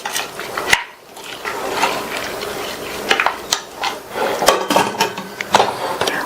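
Metallic clanks and clatters of cookware, including a lid being set down on a pressure cooker, with scraping and knocks at close range.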